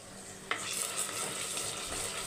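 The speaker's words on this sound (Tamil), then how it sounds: "நம்ம பூண்டு இஞ்சி பூண்டு பேஸ்ட்டும் நல்லா அந்த எண்ணெயிலே ஃப்ளேவரில் வதக்குங்க." Ginger garlic paste sautés in hot oil for an amma-style fish curry, giving a soft continuous sizzle with a couple of light stirring scrapes, close and fairly quiet.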